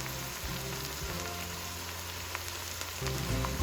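Okra fries in a pot over medium heat, a steady close crackling sizzle with small pops throughout and a brief stirring scrape near the end.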